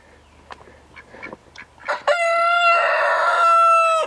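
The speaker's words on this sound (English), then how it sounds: "The males, we have three of them. They're starting to crow, and they sound pretty funny." Icelandic roosters crowing nearby, a few short clucks and calls first, then one long loud harmonic crow that holds for about two seconds.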